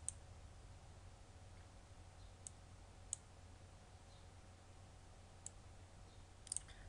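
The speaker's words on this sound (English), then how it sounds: "So I'm going to right click down here, click new, come down to user" A computer mouse clicks a handful of times at irregular intervals, sharp quiet ticks over a low steady room hum, with no talking.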